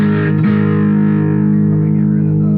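A Jackson JS32 Dinky arch top electric guitar through a Tube Screamer overdrive pedal, a single loud distorted chord struck and left ringing, sustaining steadily and fading only slightly.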